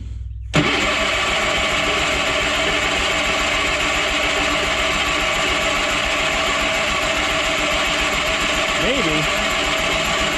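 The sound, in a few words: Bolens QT16 garden tractor engine starting and idling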